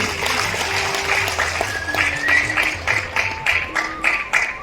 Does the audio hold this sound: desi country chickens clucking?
no